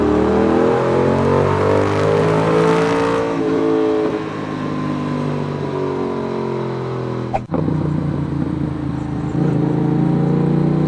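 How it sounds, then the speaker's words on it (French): A 2019 Yamaha XSR 700 motorcycle engine drones loudly and close, its exhaust note falling as it slows, with one sharp exhaust pop partway through. "Je sais pas si tu entends mon pot d'échappement."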